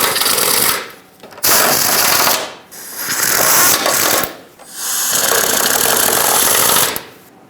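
Bolts on a plastic shield of a Chevrolet Silverado being snugged up with a ratchet: several bursts of rapid clicking ratchet action separated by short pauses, close and fairly loud, with no talk.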